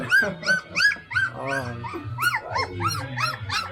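Several puppies yip, whimper and give small high barks in rapid overlapping bursts, close by, while people talk softly underneath.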